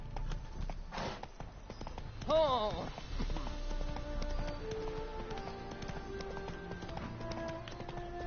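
Horse hooves clip-clop in The Witcher 3 video game, a steady patter of footfalls under game music and ambient effects, with a voice and tonal chime passing partway through.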